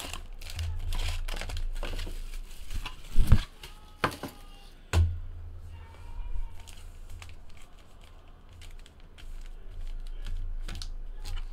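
Wrapped 2018 Panini Contenders Draft Picks football card packs are torn open and handled, giving close, bursty crinkling and crumpling of foil wrappers with a few sharp rips and clicks over a steady low hum, without talk.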